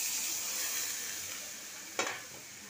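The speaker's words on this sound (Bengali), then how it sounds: "এবার জল ঢেলে দিলাম।" Steady sizzling hiss of a hot pan for the curry base of an egg and pointed gourd korma, with a brief sharp burst near the end as water meets the hot oil.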